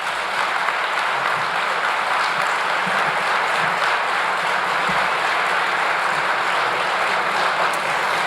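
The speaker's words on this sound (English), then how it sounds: "Please give a big round of applause to Representative Willis." A large crowd at a Convention of States rally in Iowa applauds steadily and loudly for the whole stretch, a dense wash of clapping with no pause.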